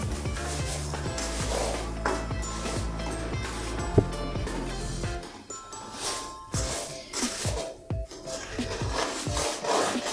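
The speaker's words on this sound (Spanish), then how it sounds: "Ahí vamos a ir raspando todo lo que queda en el fondo" Caramelized sugar from garrapiñadas (sugar-coated almonds and walnuts) is scraped off the bottom of a frying pan: repeated close rasping strokes, heavy and rhythmic at first, then lighter and more scattered.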